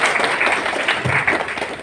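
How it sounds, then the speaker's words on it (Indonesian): Brief, dense applause fills a hall as an audience claps for the women of Bawaslu, a steady wash of many hands that stays loud throughout. "Tepuk tangan buat perempuan Bawaslu."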